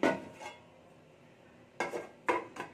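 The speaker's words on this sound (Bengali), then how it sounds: "এবার ঢাকা দিয়ে দিচ্ছি" A pot in a home kitchen is covered with its lid after chopped coriander goes into a prawn and jackfruit curry: a soft clatter first, then two sharp, close metallic clinks of the lid settling, with no voices.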